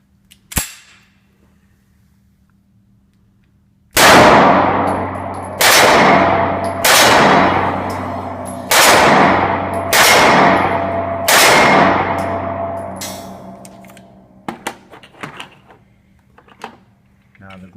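Kahr PM9 pistol fired with its small magazine at an outdoor range: six sharp, loud shots about a second and a half apart, each with a ringing tail, followed by fainter clinks and a voice.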